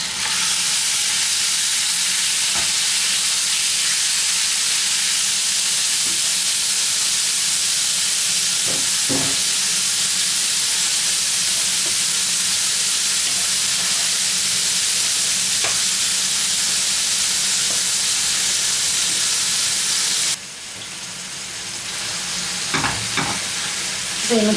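Chicken pieces sizzling steadily in a hot pan for Ramadan fatteh with eggplant, a loud continuous fry with a few clatters of stirring, the sizzle dropping briefly near the end before flaring up again.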